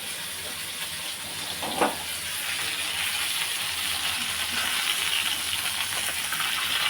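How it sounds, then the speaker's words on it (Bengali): Fish fries lightly in hot oil in a pan, a steady close hiss and sizzle that thickens slightly after a brief sharp crackle, continuous throughout. "হালকা করে একটু ভেজে নিচ্ছি যাতে টেস্ট লাগে খাইতে"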